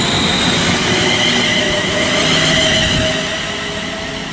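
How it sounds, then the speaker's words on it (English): A West Midlands Railway passenger train rolls past at Birmingham International on the West Coast Main Line, a steady loud rush of wheels and carriages with faint rail squeal, easing off slightly toward the end. "the final now is the 11:45 West Midlands Railway service to Birmingham New Street"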